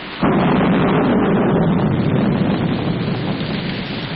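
Heavy rain of a thunderstorm, a loud, dense, continuous roar that bursts in suddenly and holds steady without a break.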